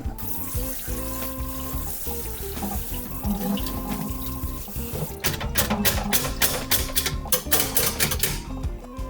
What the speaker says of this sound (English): Now we are going to rinse the potato so we don't get too much starch